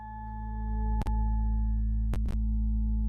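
Synthesized tones from filters driven by sine waves and stochastic generators form a steady stack of sustained harmonic pitches, with brief clicky bursts at about one and two seconds, and no voices.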